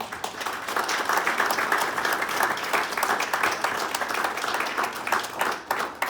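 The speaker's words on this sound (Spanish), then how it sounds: "Démosle un caluroso aplauso" Warm applause from a lecture audience before a talk on the history of the Mixtec language, steady, dense clapping from a sizable crowd throughout.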